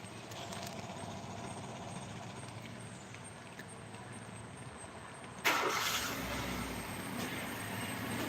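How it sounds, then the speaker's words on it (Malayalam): A vehicle rumbles past on a road. A low engine drone runs steadily, then a louder broadband whoosh swells abruptly and stays up as the vehicle passes close by. "വണ്ടി പോകുന്ന സൗണ്ടാണ് കേട്ടോ."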